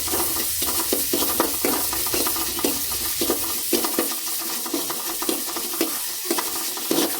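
Loud, steady sizzling of spices frying in hot oil, with occasional stirring clinks against the pan, while tempering fenugreek rasam.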